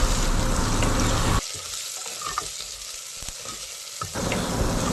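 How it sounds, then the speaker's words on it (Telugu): Onions frying in oil in a pan for dal curry, a dense close sizzle that drops away for a few seconds in the middle before returning, with no talk. "ఇలా ఆనియన్స్ వేగుతూ ఉన్నప్పుడు"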